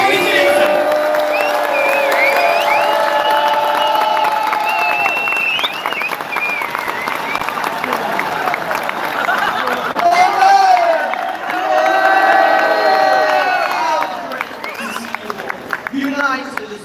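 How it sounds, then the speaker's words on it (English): A rally crowd cheers and applauds loudly, with whoops and shouting voices swelling in waves, easing briefly midway before rising again and fading toward the end. "give this young man a massive, massive cheer, a round of applause"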